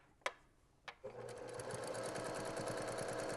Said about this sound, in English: I'm gonna go ahead and lock stitch this at the top as well.